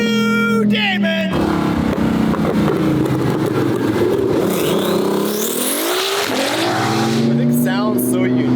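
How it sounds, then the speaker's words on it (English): Twin-turbo Ferrari F12 with aftermarket exhaust accelerating hard, a loud rising and falling wail through gear changes, very close and dominant, with people talking over it. "What's crazy is it sounds nothing like an F12 anymore."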